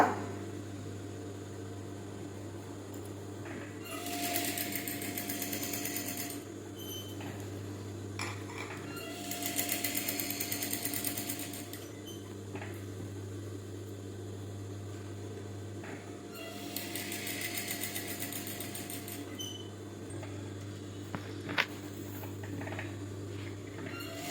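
A sewing machine stitches patchwork pieces in three bursts of rapid, buzzing needle action, each lasting a few seconds and separated by pauses, over a constant low motor or room hum.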